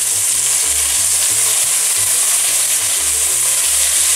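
Braciole meat rolls brown in a frying pan with a loud, constant close-up sizzle and spatter, unbroken and alone for the whole stretch.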